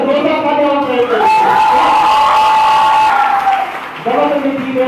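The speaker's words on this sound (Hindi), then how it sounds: "जबरदस्त, जोरदार तालियां हो रही है।" A school quiz-match audience claps loudly in a sustained burst while a host's voice speaks prominently over the applause.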